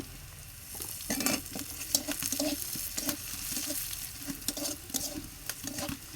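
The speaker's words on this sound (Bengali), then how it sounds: "নেড়ে চেড়ে লাল লাল করে পেঁয়াজ রসুন ঝাল ভেজে নিয়ে নেব" Onion, garlic and green chili frying in a pan while being stirred for an okra fish curry, a busy crackling sizzle with repeated soft stirring scrapes, close and moderately quiet.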